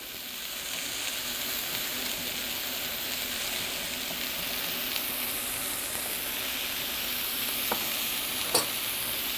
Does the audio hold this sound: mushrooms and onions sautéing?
yes